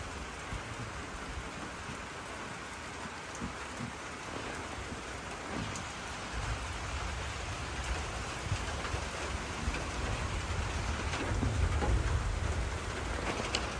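Steady heavy rain pours down, a dense continuous hiss with occasional low rumbles, no voices present.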